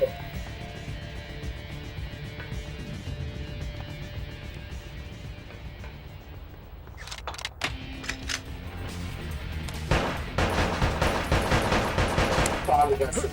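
Gunfire in the PS2 game Bad Boys Miami Takedown, with repeated shots and bursts that grow louder and denser in the second half, all under a steady bed of game noise.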